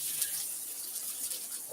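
Shallots hit hot oil in a pan for fried rice and give a brief, bright, hissing sizzle that holds steady and close.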